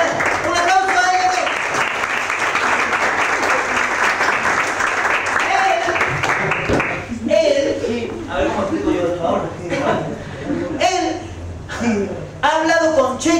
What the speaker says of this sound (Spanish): Y pues un aplauso a ellas dos.